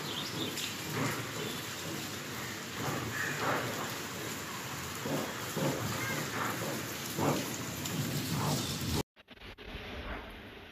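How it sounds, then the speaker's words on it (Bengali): Steady rain falls during a thunderstorm with low, rumbling thunder beneath it, a constant wash of drops heard from a veranda before the sound abruptly cuts away near the end. "তো আকাশে অনেক গর্জন হইতেছে"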